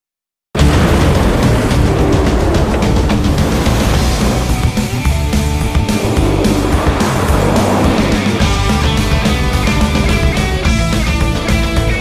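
A Mitsubishi Triton pickup truck drives hard in a television commercial, its engine and tire squeal blended with loud continuous music and effects from the start after a brief silence.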